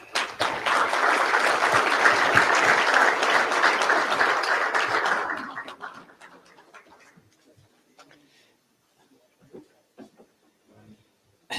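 A banquet audience at the Ashtabula Touchdown Foundation event applauds loudly and steadily for about five seconds, then the clapping thins out to a few scattered claps in a quiet room.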